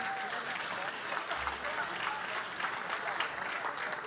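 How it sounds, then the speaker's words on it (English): An audience at the City of Beaumont State of the City 2022 event gives a sustained round of applause, a dense, even patter of clapping that continues without a break. "Let's give them all another big round of applause."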